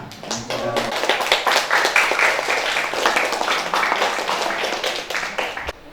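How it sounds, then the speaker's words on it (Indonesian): A classroom group claps for group 3 after their presentation, a steady dense patter of many hands lasting several seconds, close and continuous with a faint voice briefly underneath. "kita kasih tepuk tangan buat kelompok 3"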